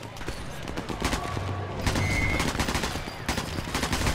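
Video game gunfire in Sniper Elite 4 co-op, dense bursts of rapid shots and fusillade crackling throughout, loud and close, with faint voices mixed in.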